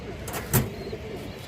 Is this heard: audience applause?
no